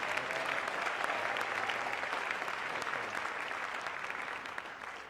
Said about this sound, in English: Let's give them a round of applause in advance.